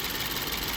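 A BMW 750i engine with freshly replaced ignition coils and spark plugs, being checked for a misfire, runs steadily at idle with a dense, continuous mechanical rumble and no voices.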